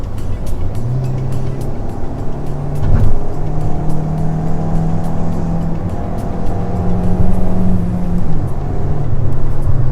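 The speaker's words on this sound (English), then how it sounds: "I'm gonna floor the car now." A 2019 Hyundai Tucson 2.0 SUV engine drones under full throttle for several seconds, pitch climbing and resetting as it works through the gears, with road rumble throughout.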